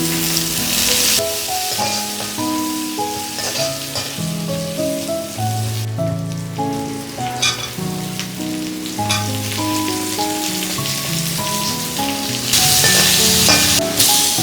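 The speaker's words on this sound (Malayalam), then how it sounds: "ഒരു സവാളയും കൂടി ഇട്ട് വാട്ടാം" Ginger, curry leaves, green chilies and onion sautéing in a pan in a home kitchen, a steady close sizzle and crackle with occasional stirring, running continuously under soft background music with no talk.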